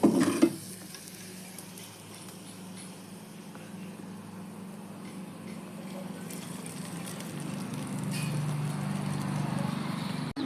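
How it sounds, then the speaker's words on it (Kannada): Hot ghee tempering with garlic and dried red chillies is poured into tomato rasam and sizzles steadily, a close, continuous frying hiss with some stirring, rising toward the end. "ಈಗ ಸಾರಿಗೆ ಒಗ್ಗರಣೆ ಹಾಕ್ಕೊಳ್ಳೋಣ."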